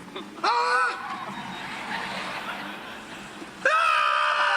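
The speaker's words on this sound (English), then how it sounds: "That scream, that is the visceral scream of humanity meeting advanced technology." People scream inside a self-driving car with no hands on the wheel, loud sustained shrieks at the start and again at the end, separated by a stretch of road noise and muffled reactions.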